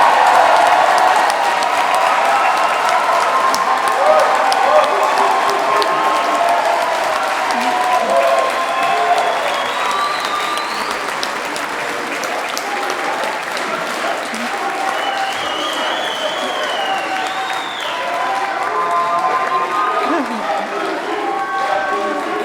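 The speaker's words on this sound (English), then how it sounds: "give a massive round of applause to our graduates" A large audience at a university graduation ceremony applauds the graduates steadily, dense sustained clapping with some cheering and whistles mixed in.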